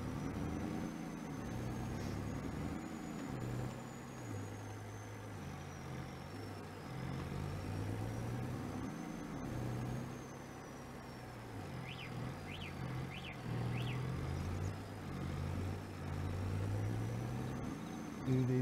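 Steady low engine drone of a tractor or farm vehicle in Farming Simulator 22, running continuously with slight pitch shifts, and a few faint high chirps partway through.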